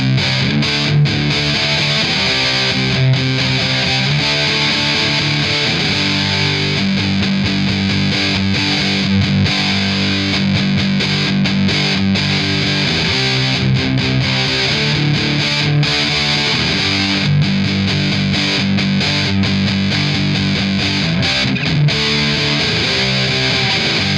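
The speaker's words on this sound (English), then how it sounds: "So let's crank the distortion up a little bit." A heavily distorted electric guitar through a Behringer UD300 distortion pedal plays chunky, fuzzy chords and riffs, loud and continuous throughout with a gritty, saturated tone.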